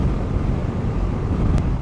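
Wind rushing past a rider on a Kawasaki Dominar 400 motorcycle near Tagaytay gives a constant loud, buffeting roar with low rumble, steady throughout and no speech.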